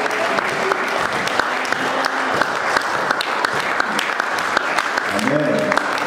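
A church congregation applauds and acclaims, dense continuous clapping with some sharper nearby claps, loud and sustained, while voices call out and a few sung notes rise toward the end.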